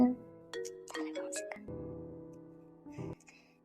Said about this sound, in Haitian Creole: mon téléphone m'a sonné.